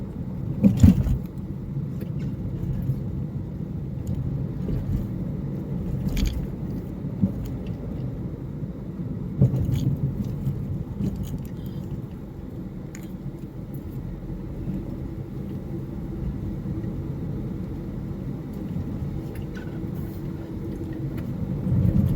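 A diesel car on a road trip through Goa drives along, its engine and road rumble a steady low drone from inside the cabin, with a few brief knocks and no talking.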